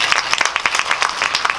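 Audience applause at a film talk event in a cinema hall, a brisk patter of many hands clapping closely together, loud and continuous throughout.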